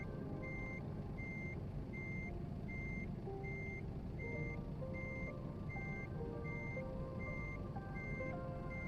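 Regular, evenly spaced reversing beeps sound from a truck in a Volvo driving simulator game, with a steady engine drone underneath and no talking.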